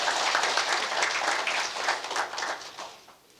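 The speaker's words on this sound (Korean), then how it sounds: "후보를 박수로 맞아주십시오." An audience applauds to welcome a presidential candidate at a televised election debate, dense clapping that swells early and then tapers off toward the end.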